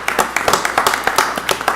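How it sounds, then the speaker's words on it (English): Applause at a county commission meeting: a few people clap in a quick, even rhythm, a brief sparse patter of hands heard fairly close. "Yeah, you can give a round of applause."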